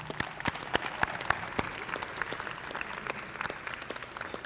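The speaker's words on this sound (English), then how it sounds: "Please give them a round of applause." Audience members at a spring senior breakfast applaud the student jazz combo after the players are introduced, with a steady wash of clapping and a few sharp, distinct claps standing out at moderate volume.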